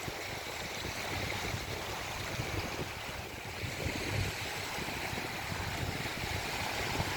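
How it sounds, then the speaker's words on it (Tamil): A swollen river, fed by snowmelt, flows through a forest at Golden Ears in Canada, producing a steady, continuous rush of water at low level without breaks. "ஆறு பெருசாக தாங்க உள்ளே வந்துக்கிட்டு இருக்குது."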